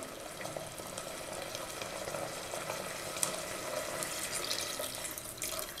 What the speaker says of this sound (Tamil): இனி இதில் நம்ம புளி தண்ணி சேர்த்துக்கலாம்.